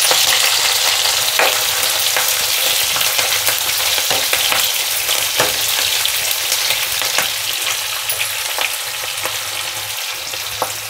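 Curry leaves and chopped onions frying in hot oil in a pan, a loud continuous sizzle with repeated scraping clicks of a spoon stirring throughout.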